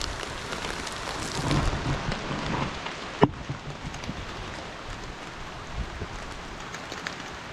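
Steady rain pours outdoors during a harvest, a dense even hiss of drops with one sharp close knock partway through and no talk.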